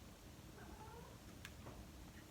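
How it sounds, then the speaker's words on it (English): A cat meows faintly in the background, a couple of short meows, at low volume aboard a liveaboard boat. "Don't mind the cat."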